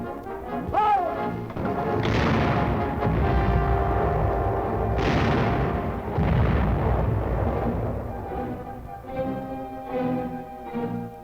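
Artillery guns fire in a wartime combat scene, with heavy booming blasts and long rumbling reverberation that overlap into a loud, continuous barrage.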